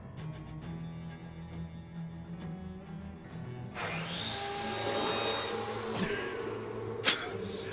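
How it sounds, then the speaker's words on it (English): A lawnmower-like whirring from the Shadows Over Loathing game builds up midway, a rising mechanical burr that grows louder and brighter over a low rumble, ending with a sharp hit. "Lawnmower go burr."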